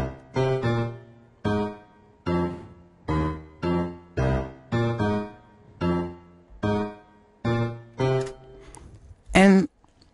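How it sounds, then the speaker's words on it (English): A simple melody plays on a synthesized piano: a dozen or so separate plucked notes in an even, unhurried rhythm, each decaying quickly. It sounds on its own, closing with one brighter, buzzier struck tone. "it's now played by a piano"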